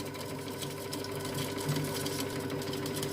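An All Cook kitchen robot whips egg whites at speed 8, giving a steady, loud motor whir with a constant mechanical hum that runs unbroken throughout.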